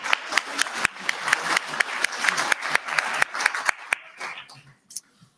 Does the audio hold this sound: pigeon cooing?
no